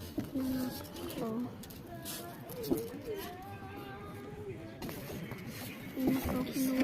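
Pigeon cooing on its rooftop landing board, a steady low repeated coo near the start and again at the end, with faint scuffling and background noise in between.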